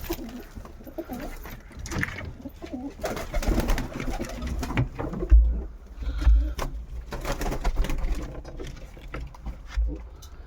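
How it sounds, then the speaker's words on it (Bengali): Kaldom pigeons coo in a loft where some birds sit on their eggs, the soft throaty calls rising and falling close by across the whole stretch, with handling noise and a few thumps mixed in. "কিছু পায়রা দেখাই যেগুলো ডিমে বসে আছে"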